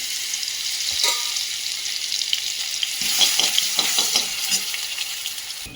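Ground chili sizzling in a spoonful of hot ghee, a steady bright crackle and hiss with soft scraping stir strokes around one and three seconds, close and moderately loud, no talk.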